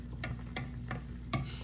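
Fish tinola soup boils in a pot on a home stove, giving soft bubbling pops and small clicks over a low, steady hum.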